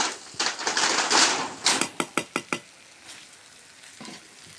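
Vegetables fry in oil in a pan, a sizzling crackle with a run of sharp clicks as a utensil stirs and taps, then quieter spitting; the dish has onion, pointed gourd and potato.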